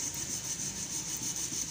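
A scouring pad scrubs a cooking pot coated in ketchup, making a soft, steady rasp in quick, rhythmic back-and-forth strokes close by, with no talking.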